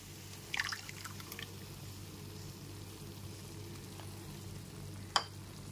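Coconut paste dropped into a well-cooked spice masala that has released its oil, giving a quiet, steady frying hiss with a couple of brief splashy crackles.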